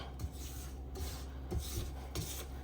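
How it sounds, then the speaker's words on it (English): A spatula scrapes down the bowl through apple brownie batter still gritty with undissolved sugar, giving a quiet, raspy scratching in several repeated strokes with no voices. "You can still hear that sugar."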